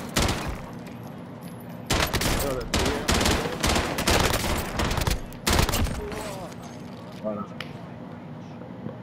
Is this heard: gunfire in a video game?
yes